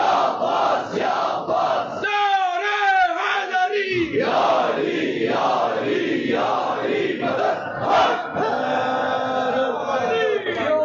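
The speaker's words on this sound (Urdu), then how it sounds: "آپ سب سلامت رہیں جنہوں نے اس نعرے پر جواباً صدا بلند کی ہے" A crowd at a majlis shouts a slogan back in unison, loud massed voices rising in repeated chant-like bursts that fill the space for several seconds.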